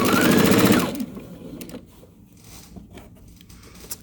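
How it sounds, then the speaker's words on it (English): Sewing machine stitching quilt charm squares together, a loud dense mechanical whir for about a second that then stops, leaving faint handling clicks and rustle. "I'll sew this one"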